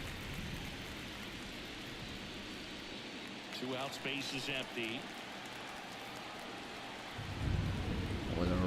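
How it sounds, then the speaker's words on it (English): Steady rain hiss with low rumbling thunder runs under a commentator's play-by-play in a baseball video game, swelling louder near the end. "Well, the rain is a-coming."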